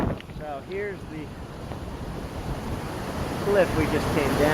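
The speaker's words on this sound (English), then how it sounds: "Big waves out." Big ocean waves roll and break along a Hawaiian shore on the Waipio to Waimanu trail, a continuous loud wash of surf with wind buffeting the microphone and a few brief vocal sounds.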